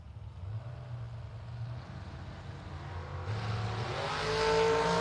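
Trucks launching at a drag strip, including a Dodge Dakota pickup, with engines droning low and then rising into a loud revving surge as they pull away.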